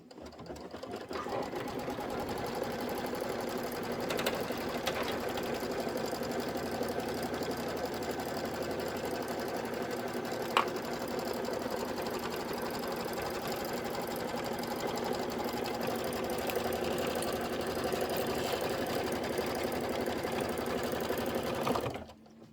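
An embroidery machine hums and stitches continuously at an even pace, sewing the back fabric tack-down line on a crossbody bag, close and steady with one brief tick partway through.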